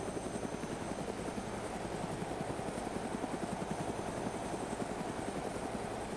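Helicopter flying over a city in the video game DayZ, a steady loud rotor thump with dense pulsing chop and engine whine continuing throughout, no voices.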